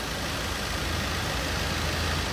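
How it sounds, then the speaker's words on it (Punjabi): A car engine with a turbo problem runs steadily, producing a continuous, even drone at a moderate level with no talk over it. "ਗੱਡੀ ਦੀ ਆਵਾਜ਼ ਸੁਣੋ"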